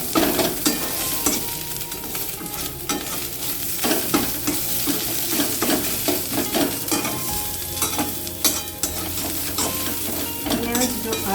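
Onion, ginger, garlic and ground cumin sautéed in a hot pan: loud continuous frying hiss with rapid, repeated scraping strokes of a spatula stirring throughout.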